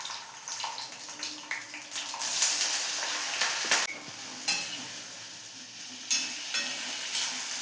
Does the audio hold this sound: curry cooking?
yes